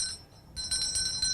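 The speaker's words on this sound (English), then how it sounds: "Ring that bell" A small bell rings brightly in a few quick repeated strikes, close and clear over a quiet background at an outdoor parade and expo.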